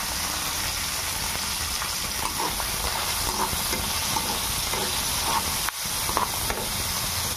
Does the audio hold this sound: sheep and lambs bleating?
no